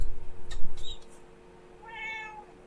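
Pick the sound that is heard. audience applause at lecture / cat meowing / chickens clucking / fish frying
cat meowing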